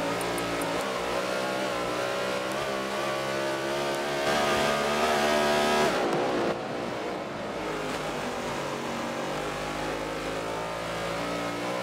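NASCAR race car engines at Sonoma in the Forza Motorsport 7 video game, several loud engines revving and accelerating continuously with shifting pitch, one car surging louder midway.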